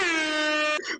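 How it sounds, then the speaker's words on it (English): A loud, sustained air horn blast holds steady for most of a second, then cuts off into a brief rough tail. "we're just gonna blow the air horn real quick"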